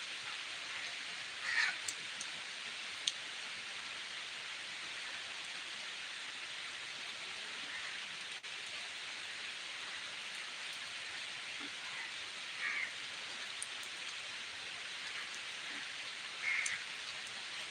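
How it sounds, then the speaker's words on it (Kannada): Steady, soft hiss of rain falling continuously, fairly faint and even, with a few brief louder patters and no voices. "ಸೌಂಡ್ ಕೇಳಿಸ್ತಿದೆ ಅಲ್ಲ ಮಳೆ ಬರ್ತಿರೋದು"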